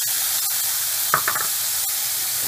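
Chopped tomatoes added to onions frying in a pan for kathirikai kara kuzhambu, a steady close sizzle with a brief louder burst of spattering and a few light spoon scrapes, no voices.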